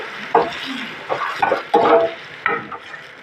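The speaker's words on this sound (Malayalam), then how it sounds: "അപ്പോൾ ശരിക്കും ഇനി നമുക്ക് പരിപ്പ് ഒഴിച്ച് കൊടുക്കാം" Crushed lentils (parippu) poured into a pan of fried onions, followed by several close, distinct bursts of wet stirring and sizzling with short pauses between them.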